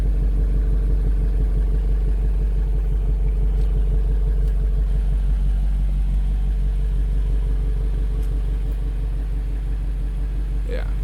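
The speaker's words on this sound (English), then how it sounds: "And then of course the exhaust system at the back." A 2021 BMW X5 M Competition exhaust burbles at idle with a deep, steady rumble and faint rhythmic pulsing throughout, with little else around it.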